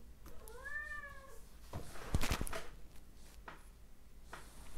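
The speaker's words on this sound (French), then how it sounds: "Excusez-moi, c'était le chat." A cat meows once in a clear, rising-and-falling cry early on, close to the microphone, followed by clattering and rustling handling noises indoors.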